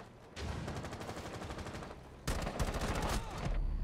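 Rapid, loud gunfire bursts from a shotgun in the Rainbow Six Siege game, two sustained volleys of repeated blasts close up with a short gap between them.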